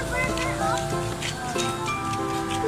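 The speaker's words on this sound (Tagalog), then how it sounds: "Inabot pa ng ulan." Steady rain falls outdoors, pattering continuously on surfaces throughout, with faint voices and other background sounds mixed in.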